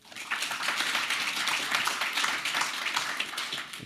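A panelist from Glasgow claps for herself at a Fife College discussion event, a steady flurry of hand claps at moderate volume, continuous and unbroken, with no one speaking over it.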